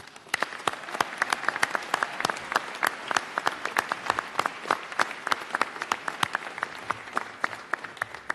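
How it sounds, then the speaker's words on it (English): Audience applause at a department award ceremony honoring longevity and performance awardees, a sustained crowd of clapping with sharp individual claps standing out, moderately distant and steady for several seconds. "How about one more round of applause for everyone?"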